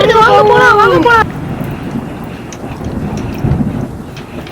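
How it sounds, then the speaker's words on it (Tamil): Heavy rain falls with thunder, a rolling rumble and rushing wash of wind and downpour, opening under a high wavering voice-like tone that cuts off after a second. "மழை பெருசா பெய்யுது"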